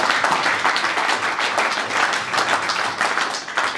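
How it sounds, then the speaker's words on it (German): A crowd applauds continuously at a 1. FC Köln members' panel discussion, dense clapping from many hands filling the room at steady volume. "einen Applaus für Ralf Capito."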